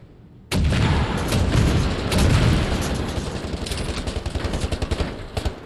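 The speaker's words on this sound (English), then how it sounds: "Let's bring out the rockets." Loud rocket launcher blasts and explosions in the shooter Wolfenstein: The New Order, a sudden heavy boom followed by sustained roaring blasts and a rapid rattling tail of shots, with no talk.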